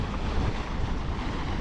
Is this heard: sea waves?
yes